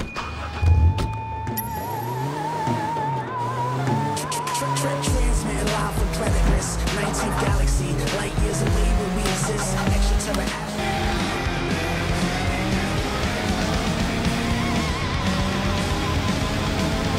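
Cars racing in the open-world game Sleeping Dogs, engines revving and shifting through gears with tire squeals and skids, loud and continuous, with music and effects mixed in.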